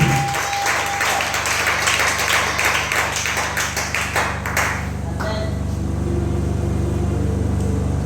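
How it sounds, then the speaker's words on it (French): A church congregation applauds for the Lord during a Wednesday worship service, with steady, dense clapping for about five seconds before it thins out into a lighter patter. "Acclame pour le Seigneur pour Dieu."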